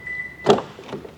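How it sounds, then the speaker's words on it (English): A Toyota Corolla door lock actuator fires once from the keyless entry remote, a short sharp mechanical clunk followed by a fainter second click, close and clear in a quiet car. "let's see if we have the new keyless entry option."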